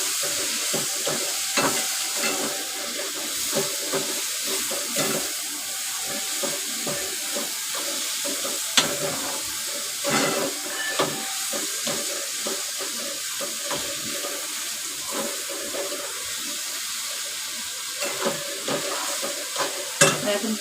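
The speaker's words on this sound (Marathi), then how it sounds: "त्यात मग ही कर्दी पण टाकते आणि मिक्स करून घेते." Dried prawns fry and sizzle in a pan with kokum while a spoon scrapes and stirs them in steady irregular strokes, close and busy, with no talking.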